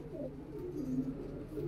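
A red Cheena pigeon with white eyes coos softly, a low murmuring call repeated through the moment over faint background hiss.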